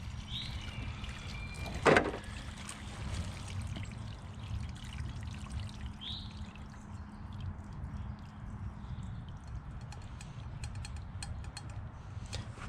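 Water pours from a gutter through a bull valve, rushing continuously with a steady low gush, faint mechanical creaks and a sharp clunk early on.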